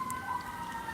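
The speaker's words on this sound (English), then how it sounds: "hang on, we got sirens going by" Emergency vehicle siren passing by outside, heard steady and moderately faint through a room with no talking.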